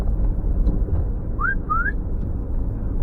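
A person whistles two short rising notes, one after the other, over steady background noise while plastering a ceiling.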